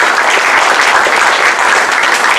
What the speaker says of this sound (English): So if we could just give them a round of applause for covering this out.